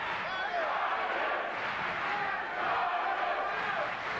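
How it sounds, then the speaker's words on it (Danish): Arena crowd roaring during the Johnny Bredahl vs Leo Gamez boxing match, a thick, sustained wall of shouting and cheering that swells slightly in places and never drops out. "Og publikum fuldstændig op og kører i øjeblikket."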